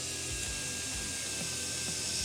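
A Fanttik Nano power drill with a 2.2 bit bores down through wood from the top, a steady high motor whine with a low grinding, chattering undertone as the bit bites, close and unbroken.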